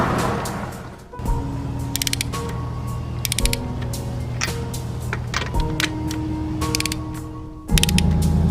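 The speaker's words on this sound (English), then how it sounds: "we're gonna torque these down in the star pattern to 80 foot-pounds" A ratchet clicks the wheel lug nuts down to 80 foot-pounds in a star pattern while a wheel with 25mm spacers goes on, each stroke a quick run of close, crisp clicks with short pauses between strokes.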